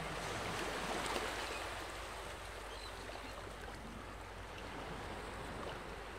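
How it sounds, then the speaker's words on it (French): Gentle ocean waves roll in a steady, continuous wash of surf, soft and even throughout with no voices. "Au rythme des vagues qui grondent et miroitent doucement"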